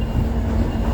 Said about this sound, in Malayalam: റെയിൽ പാളത്തോടെ കണ്ടെയ്നർ ട്രെയിനുകൾ പോകുന്നതാണ്.